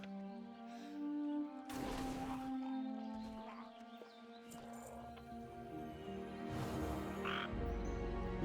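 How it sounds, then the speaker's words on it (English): A small frog creature in World of Warcraft gives a few croaking calls amid game combat noise, punctuated by sharp bursts of spell and impact effects over a steady ambient backdrop. "This small frog doesn't want to just get one shot."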